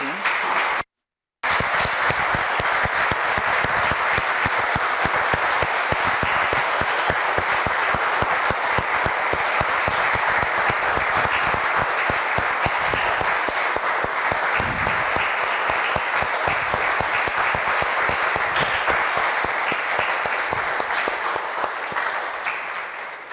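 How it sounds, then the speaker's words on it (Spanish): A church congregation applauds steadily and loudly for over twenty seconds after a prayer at a Spanish-language service, a dense wash of many hands with a brief gap near the start. "Damos un aplauso, hermanos."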